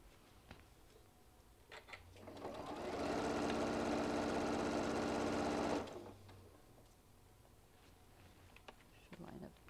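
A sewing machine stitches down a small bean bag, running in one steady whirring burst for about three seconds after a quiet lead-in, then stopping, with faint handling noise around it.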